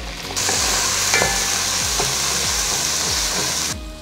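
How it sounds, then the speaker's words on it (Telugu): Small chopped tomatoes fry in a pan over browned onions for a black chicken (Kadaknath) pulav, giving a steady loud sizzle with repeated low scraping stirs throughout. "టమాటాలు సాఫ్ట్గా అయ్యే వరకు వేయించుకోవాలి"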